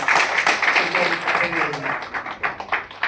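An audience at a political meeting claps for Professor Kanakaiah. The applause is moderate and fairly close, a dense patter of hands that swells and thins over a few seconds.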